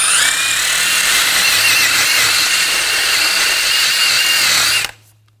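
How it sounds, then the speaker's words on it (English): Wire brush scrubbing rust off the front brake hub of a 2006-2010 BMW 550i, a loud, steady, abrasive rasping that holds continuously for several seconds, then cuts off abruptly. "just use a wire brush"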